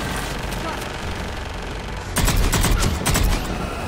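Gunfire from a weapon in the Mass Effect 3 video game bursts in a loud, rapid volley for over a second, cutting sharply in over steady background game noise, with no voices over it.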